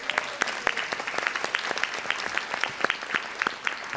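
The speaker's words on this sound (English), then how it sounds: "let's give her a round of applause" An audience at an annual general meeting claps in a crisp, steady round of applause, moderately near, with no talking over it.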